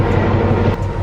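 A passenger train on the Kandy to Ella line in Sri Lanka, a steady loud low rumble of wheels and carriage noise with a faint rhythmic pulse, no voices.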